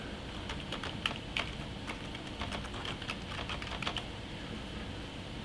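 Brisk typing on a computer keyboard as a route name is entered, a steady run of light clicking keystrokes close to the mic, with no talk.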